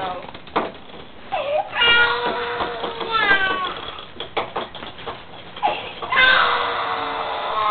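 A cat meows repeatedly at close range, drawn-out cries between bursts of clattering movement, with a loud wailing meow near the end, while people talk nearby in a home where a bookshelf is being painted black.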